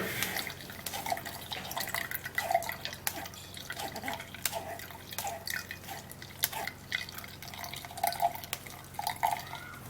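Cucumber juice strained with no added water drips and trickles steadily into a container, a quiet close run of small wet patters and splashes with no voices.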